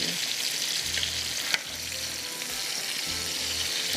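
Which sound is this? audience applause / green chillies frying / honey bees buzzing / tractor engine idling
green chillies frying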